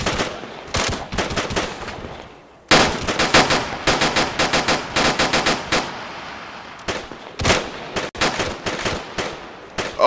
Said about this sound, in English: get guns towards the city. Shoot anything that moves.